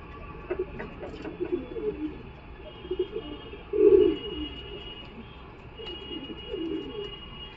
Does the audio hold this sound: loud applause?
no